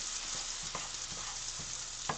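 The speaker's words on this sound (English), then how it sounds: "Essentially what we're doing now is we're stir frying the rice." Cauliflower rice stir frying in a hot pan, a steady broadband sizzle throughout with a few soft scraping stirs of the utensil breaking through, close and unbroken, no voices.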